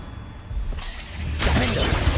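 A Confringo blasting spell cast in Hogwarts Legacy bursts out as a sharp, crackling shatter, loud and close, with a brighter second burst flaring near the end over the game's ambient rumble.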